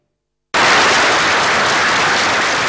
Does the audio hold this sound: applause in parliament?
yes